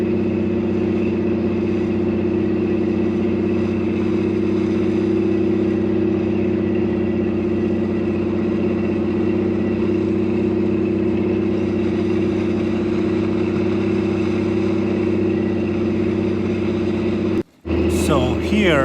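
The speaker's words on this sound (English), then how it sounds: "So here I turned off my four-wheel drive, and I'm basically driving a two-wheel drive at the moment" A truck fitted with an Eaton Truetrac differential drives through snow in two-wheel drive, its engine holding a loud, steady drone close by, with a brief dropout near the end.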